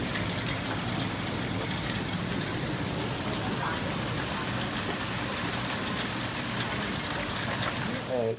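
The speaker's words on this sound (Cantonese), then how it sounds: "咁大概喺真正嘅冰雹落嚟" Hailstorm in August, a dense, steady hiss of hailstones pelting down outdoors, heard from a balcony overlooking a flooded street, continuous and fairly even throughout with no voices.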